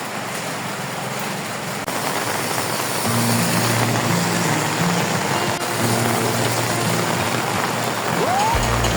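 Steady rain falling in late-afternoon Caloocan, a dense continuous hiss with a low engine hum underneath, heard alone without talk.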